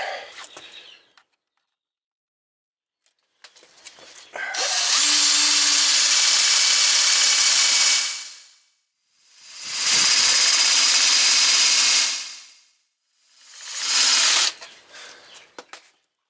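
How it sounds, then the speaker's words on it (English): A wire brush, likely power-driven, scours the front brake area of a 2005 Land Rover LR3 in three loud, sustained hissing bursts separated by short pauses, with faint clatter before and after. "now we'll go get the wire brush and clean up in here"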